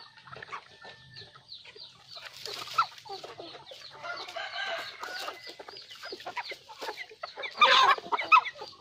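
A flock of farm chickens cackles and clucks during afternoon feeding, irregular calls rising into a louder burst of squawking near the end, close and without speech.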